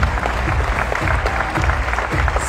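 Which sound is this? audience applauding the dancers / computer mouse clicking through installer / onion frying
audience applauding the dancers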